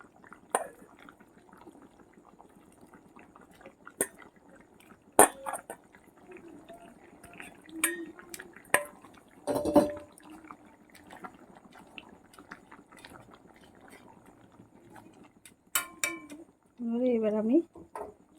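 Fried eggs go into a pan of papaya and potatoes cooking together, giving a few sharp clinks of utensils against the pan amid soft sizzling and bubbling, with a brief louder stir near the end.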